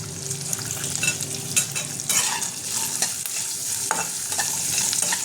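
Peanuts fry in a pan of partly boiled potatoes for khichuri, with raisins added, giving a close, dense sizzle under repeated scraping strokes of a stirring spoon.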